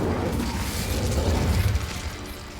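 An Incendio fire spell bursts out in Hogwarts Legacy as a loud, sustained rush of roaring, crackling energy with deep booming low end, fading slightly near the end.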